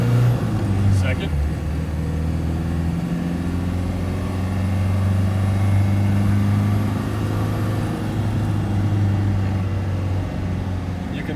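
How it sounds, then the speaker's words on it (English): 1995 Land Rover Defender 130 diesel engine accelerating hard from a stop, a steady low engine drone with rising tones, heard from inside the cab. "You can tell you're driving a diesel in this car, but it's not excessively loud."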